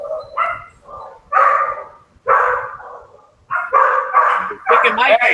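A roughly 10-pound small dog barks repeatedly in sharp, high-pitched yaps, about five or six loud close bursts with short pauses between them.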